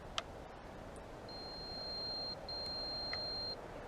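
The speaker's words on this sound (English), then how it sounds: "First thing I'm going to show you is the Find Me beeper." A Traxxas Aton Plus quadcopter's Find Me beeper sounds two faint, thin sustained electronic tones in a row, each lasting about a second, over a quiet room background.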